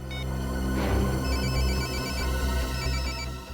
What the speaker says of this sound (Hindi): घंटी तो बज रही है और आवाज भी आसपास से ही आ रही है।